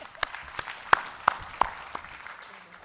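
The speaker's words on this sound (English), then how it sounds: "Third clap again." A small group at a high-level ministerial conference gives a short round of claps: several sharp, separate hand claps spaced unevenly over a few seconds, fairly faint in a quiet room.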